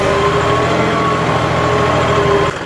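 A John Deere 5210 4WD tractor engine runs at a steady idle, a loud, even diesel hum that drops slightly in level near the end, with no talking.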